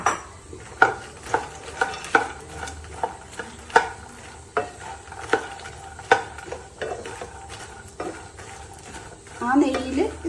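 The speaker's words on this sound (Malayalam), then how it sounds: "ഇതിനകത്തൊന്നും നമുക്ക് മക്കാനെ ഒന്ന് ചെറുതായിട്ട് ഒന്ന് റോസ്റ്റ് ചെയ്തെടുക്കാം" Makhana (fox nuts) being dry-roasted in a pan, a string of sharp clattering stirs and scrapes with a light sizzle underneath, close and fairly quiet, ending in a louder rustling burst.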